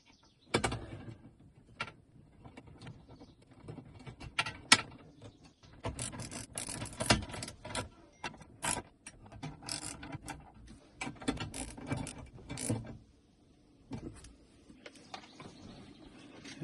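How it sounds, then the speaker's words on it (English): A ratchet wrench fitted with an extender and a 10mm socket working on a Lexus interior panel fastener, making bursts of quick clicking ratchet strokes up close with brief pauses between turns and no voices. "So I'm using an extender on a 10mm socket."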